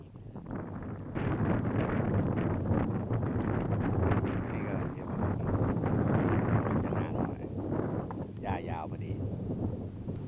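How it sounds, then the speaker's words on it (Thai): Strong wind buffets the microphone on a golf course, a loud continuous rumbling roar that rises after the first second and persists, with a person speaking at times underneath. "ลมแรงจริง"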